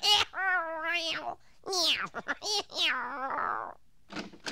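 A voice actor imitates a cartoon cat, giving several drawn-out, whiny meows in close, clear succession with short pauses between them.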